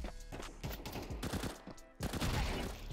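Rapid bursts of MP9 submachine gun fire in Counter-Strike 2, sharp and close, with a short pause before another volley.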